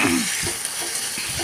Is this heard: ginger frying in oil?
yes